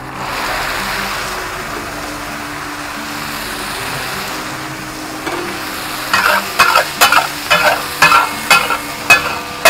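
Chaap sizzles steadily on a hot griddle at a busy meat stall, then a rapid series of loud metallic clangs and scrapes follows as the gravy goes in.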